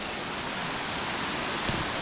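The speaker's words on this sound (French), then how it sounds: "Nous voilà à la cascade du Nidec." The Nideck waterfall in the Vosges forest gives a steady, even wash of falling water, close and continuous, with no voices.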